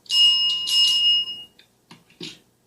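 A bright, ringing bell tone that sustains for over a second, then cuts off, followed by a few faint soft knocks.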